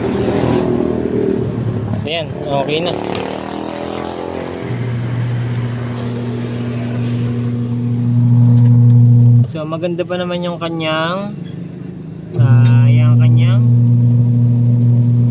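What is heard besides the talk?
washing machine motor running after timer switch replacement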